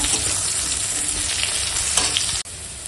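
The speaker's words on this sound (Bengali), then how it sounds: "এখন একটু দিয়ে দেবো পেঁয়াজ কুচি আর কাঁচা লঙ্কা চেরা দিয়ে একটু ভাজবো" Bitter gourd fries with chopped onion and slit green chilies in a pan, a loud, continuous close sizzle with light stirring that breaks off abruptly for an instant near the end.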